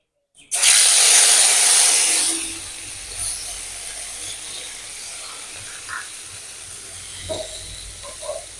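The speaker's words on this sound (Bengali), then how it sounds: "এই জিরে বেটে রেখে দিয়েছিলাম দেব জিরে বাটা তেলের ভিতর" Ground cumin paste hits hot oil in a pan for a Bengali fish curry with okra and potato, bursting into a loud, bright hiss that settles after about two seconds into a steady, softer sizzle with faint clinks.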